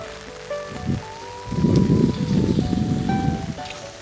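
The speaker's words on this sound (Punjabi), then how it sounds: "ਪੂਰਾ ਮੀਂਹ ਪੈ ਰਿਹਾ ਵਾ" Steady heavy rain pours down on streets in Australia, a dense hiss that swells louder after the first moments, with faint tonal hums in the background.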